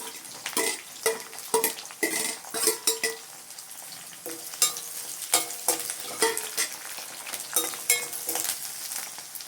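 Small onions and garlic sautéing in a pan, a steady sizzle broken by repeated sharp scrapes and clinks of a spoon stirring against the metal, close and fairly loud, with no voices.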